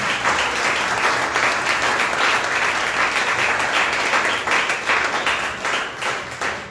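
A church congregation breaks into loud, sustained applause, many hands clapping densely and steadily for several seconds with a slight rhythmic pulse, tapering a little toward the end.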